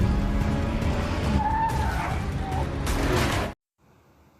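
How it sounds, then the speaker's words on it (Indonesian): A car skids with screeching tires during a chase in a monster film, the loud squeal sliding over engine roar and rumble for about three and a half seconds before cutting to near silence. "Troll terus mengejar tengkorak yang dibawa oleh sebuah mobil yang dikendarai Nora."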